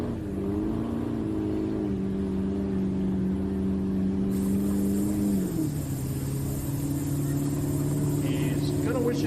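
Chevy Duramax diesel truck at a county fair truck pull, its engine screaming at high revs under load, dropping in pitch at a gear shift and then climbing again, loud and continuous with faint announcer talk beneath.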